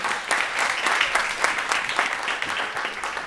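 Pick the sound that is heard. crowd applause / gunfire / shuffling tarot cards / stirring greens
crowd applause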